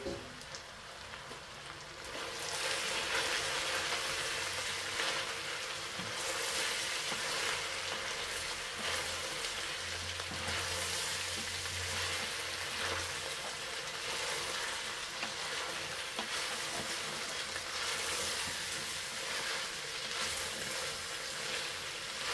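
White onion frying in a pan, a steady broadband sizzle that holds loud and even, close up, with no talk over it.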